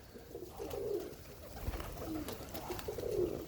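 Birmingham roller cock birds cooing in a loft, soft low murmuring coos rising in a few gentle phrases at close range, with steady faint background noise throughout.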